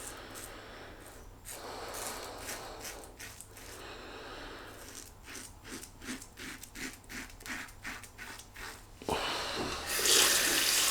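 A tap runs steadily while a quad edge safety razor is rinsed under it, the flow broken by a series of rhythmic splashes and taps as the razor is knocked and swished, then gushing louder and fuller near the end, close by.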